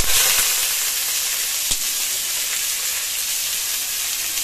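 Chopped garlic sizzling in a hot frying pan for pasta, a loud continuous hissing fry that holds steady throughout, with a few faint clicks of stirring.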